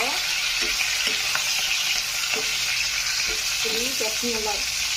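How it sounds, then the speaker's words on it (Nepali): Chopped capsicum and onion sizzle steadily in hot oil for chicken chilli, with a constant bright frying hiss and intermittent scraping clinks as a spatula stirs the pan. "क्याप्सिकमलाई पनि यसरी नै चलाइदिनुहोस् हजुरले, हल्का गरेर यसलाई पनि हल्का हल्का नै फ्राई गर्नुपर्छ"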